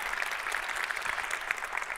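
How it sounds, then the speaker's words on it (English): A forum audience claps for participants and speakers, a dense, even burst of applause from a sizeable crowd lasting a couple of seconds. "let's give a round of applause for all our participants and speakers"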